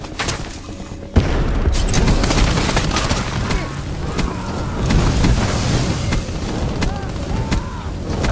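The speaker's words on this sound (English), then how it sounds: "Firing sensor dart." Sensor dart launched in Black Ops 4 (Firebreak), a sharp thump about a second in, then dense, loud combat noise with rumbling and crackling bursts running steadily to the end.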